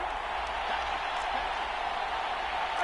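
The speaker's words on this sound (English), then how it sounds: "Listen to this crowd now." Stadium crowd in an American football video game, a broad, steady roar of cheering spectators and applause held at an even level, with a commentator's voice over it.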